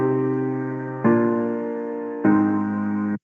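Piano bass notes doubled an octave lower alongside the original octave, three sustained low chords struck in sequence, each decaying slowly before the next, clear and alone.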